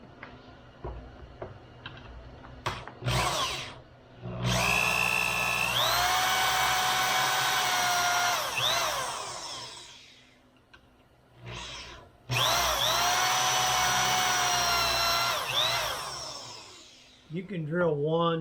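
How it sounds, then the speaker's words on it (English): A power drill bores pocket screw holes in a cabinet panel clamped to a table, running in two long loud whining bursts. Shorter starts and clicks come between the bursts. "then we begin to drill"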